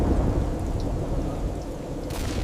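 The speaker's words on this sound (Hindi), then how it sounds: "आज ये बारिश कुछ अजीब सी लग रही है।" A storm in an audio drama: steady, dense rain pours throughout with a low, continuous rumble of thunder underneath, loud and close, and a brief hissing swell near the end.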